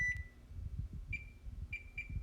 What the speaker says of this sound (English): we're going to set a timer for